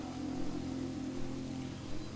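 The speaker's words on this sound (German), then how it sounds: "Oh, sehr erfrischend der Regen." Rain in World of Warcraft, a steady, even hiss of falling water with a low rumble beneath, continuous and unbroken throughout.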